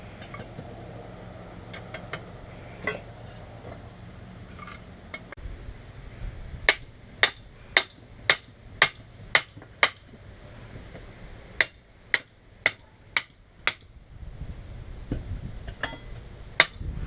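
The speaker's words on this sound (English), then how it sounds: "We'll just hammer on that a little bit and see what happens." A hammer strikes a metal part on a 5-inch Columbian post vise being repaired, a series of sharp, ringing metallic blows in two quick rhythmic bursts, close and alone.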